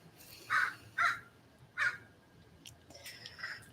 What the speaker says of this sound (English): there's all kinds of different birds around here